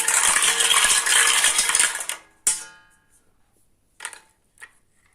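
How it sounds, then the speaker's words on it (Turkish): Stirring vegetables and fruits with a spoon: about two seconds of busy metallic clattering and scraping, then a sharp clink, followed by a few isolated light taps after a pause. "Kaşığımızı alıyoruz. Karıştırıyoruz."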